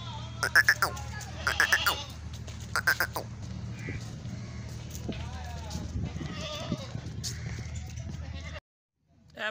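An active male goat on a goat farm bleats in several loud, close bursts early on, with someone talking over low farm background noise.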